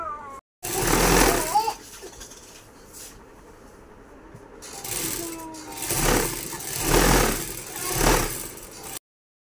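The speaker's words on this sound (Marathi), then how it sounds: "हा काठ असा दुमडून घ्यायचा आहे आणि ते व्यवस्थित शिलाई करायची." A sewing machine stitches a folded fabric edge, running in short rattling bursts with rhythmic pulsing, close and fairly loud, separated by a quieter stretch.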